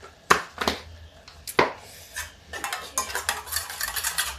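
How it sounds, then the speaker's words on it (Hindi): Besan and spices are stirred into vegetable pulao in a pot: two sharp utensil clinks against the pot, then a run of rhythmic scraping strokes over a light sizzle, close by with no talking. "इसको ही घोल देते हैं, मिक्स कर देते जिससे बेसन मेरा मिक्स हो जाए"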